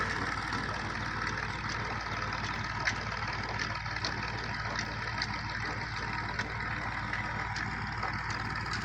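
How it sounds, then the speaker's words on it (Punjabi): A tractor engine runs steadily in a village farm field in Punjab during crop watering, a moderately loud continuous rumble with faint clicks and no voices. "ਮੇਰੇ ਮਾਮੇ ਨੇ ਟਰੈਕਟਰ ਚਲਾ ਕੇ ਤੇ ਇਸ਼ਤਾਲਾ ਦੇ ਰਹੇ ਨੇ"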